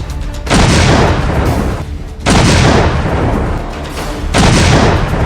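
Artillery and gunfire along the Line of Control near border villages in Poonch, in three loud sustained bursts of booming fire separated by short lulls, with no talk.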